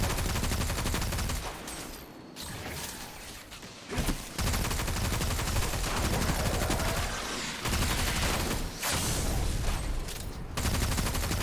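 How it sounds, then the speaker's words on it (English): Xenophage exotic weapon firing in Destiny 2 during the Empty Tank Legend Lost Sector, with loud, dense gunfire and explosive impacts that continue almost without a break, pausing only briefly a few times. "I'm going to pull out Xenophage, pop a couple shots off on that champion"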